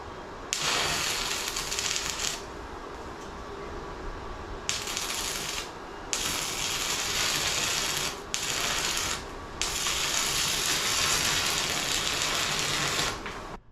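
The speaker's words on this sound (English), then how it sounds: "Now let's weld it out." A tiny 110-volt stick welder running a weld on dirty metal, giving a harsh crackling buzz in several long bursts separated by brief pauses, close and steady, with no talk.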